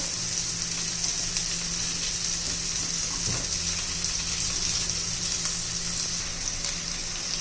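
Kolhapuri-style fish frying in a pan over low heat gives a steady, close hiss of sizzling oil that runs evenly throughout, with a soft clink partway through and no talking.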